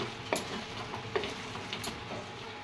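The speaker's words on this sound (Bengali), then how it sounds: "মাছগুলো দিয়ে একটুখানি নাড়াচাড়া করে নিচ্ছি।" Fish pieces stirred into fried spice masala in a pan, giving a soft continuous sizzle broken by a few faint scraping strokes of the spoon, with no voices.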